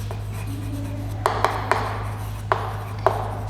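A pen taps and scratches on paper as times tables are written out by hand, with a few sharp strokes over a steady low hum.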